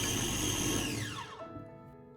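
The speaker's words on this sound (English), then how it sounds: "Then add 1 tablespoon of coconut oil and blend once more." A blender motor runs loud, blending an oat batter with added coconut oil, and then spins down, its whine falling away into quiet.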